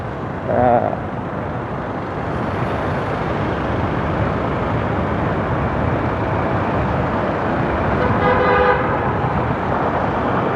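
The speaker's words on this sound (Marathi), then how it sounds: "का हॉर्न वाजवते काय समजाय नाही" A car horn toots briefly near the start, and again around the eighth second, over steady traffic noise and wind on a road in Chiplun, Konkan.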